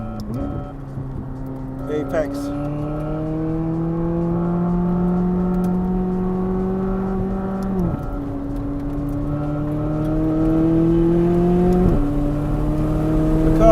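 Car driven hard on a track in sport mode, its engine climbing steadily in pitch through each gear, with sharp drops at shifts and under braking, from onboard under the driver's talk.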